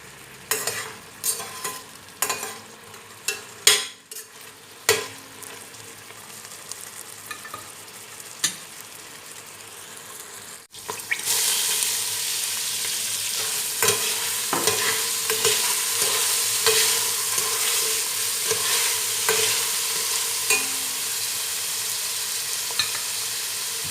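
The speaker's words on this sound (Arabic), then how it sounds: "عم بقلب اللحمة هي بمرقتها وشوية الزيت" Meat being stirred in a pot with its broth and a little oil, with a bay leaf added, for Lebanese green beans with meat: spaced scraping clatters at first, then a loud continuous sizzle with occasional utensil knocks.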